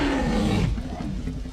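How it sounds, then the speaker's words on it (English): A dinosaur roar from the Jurassic Park film, a loud, close, drawn-out bellow lasting about half a second that dies into a low, rumbling tail with rain-like noise underneath. "A roar in the darkness and rain changed cinema forever."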